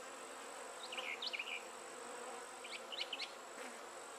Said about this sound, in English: Now we got a feeder full of bees over here.